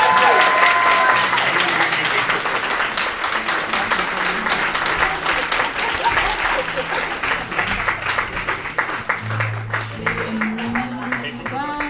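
An audience at a 30th anniversary celebration applauds as a plaque is presented, with dense, sustained clapping from a large crowd that continues steadily and fades slightly toward the end, mixed with some voices.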